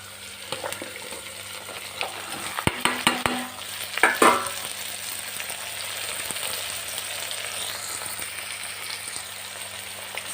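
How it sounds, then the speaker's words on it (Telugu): Potatoes and mushrooms frying in a pan with capsicum for vegetable pulao, a steady sizzle broken by clattering stirring knocks in the middle, with no talking. "ఇది కొంచెం 5 మినిట్స్ ఫ్రై చేసుకోవాలి. ఆలు, మష్రూమ్ కూడా వేసుకోవాలి."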